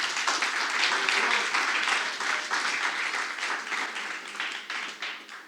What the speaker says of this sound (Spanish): Dar un aplauso al Rey, iglesia.